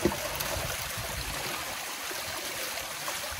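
Water pours steadily over a small spillway on an off-grid micro hydro setup, a continuous close rushing and gurgling wash with no voices.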